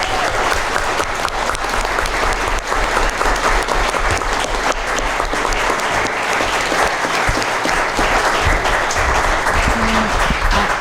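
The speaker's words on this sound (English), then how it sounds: "How about we end with a round of applause for a tremendous job." A city council candidate forum audience gives a sustained round of applause at the close, with dense, even clapping throughout.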